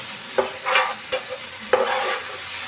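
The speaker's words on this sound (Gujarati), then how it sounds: "હવે ઘડીક આપણે ટામેટાને ચડવા દઈશું" Tomatoes cook and sizzle steadily in a pan, with a few sharp scraping stirs and soft clatters against the metal.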